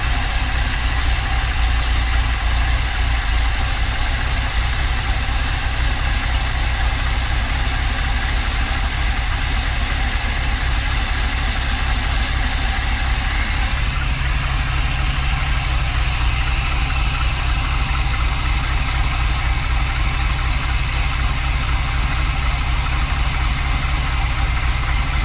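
A Mopar car engine with a freshly rebuilt carburetor idles steadily for the whole stretch, a constant close rumble with no pauses and no talking.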